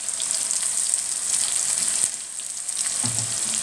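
Onions fry in a pan with a steady, close hiss and crackle of hot oil that continues unbroken, easing slightly midway.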